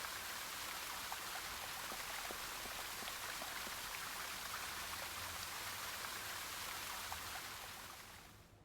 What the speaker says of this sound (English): The water jet rinsed the crumbling paint off the ceiling. I had better switch that fountain off.